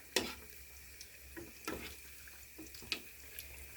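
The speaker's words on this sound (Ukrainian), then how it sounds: "як у фритюрі смажиться." Oil crackles and pops as belyashi dough pastries deep-fry in a small pot, with scattered sharp spits over a low, steady sizzle.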